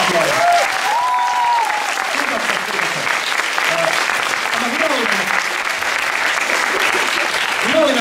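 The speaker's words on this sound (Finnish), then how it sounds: "Annetaan vielä iso aplodit." Audience applause after a school election panel at Helsingin Luonnontiedelukio, a steady wash of clapping filling the room for several seconds, with voices talking over it.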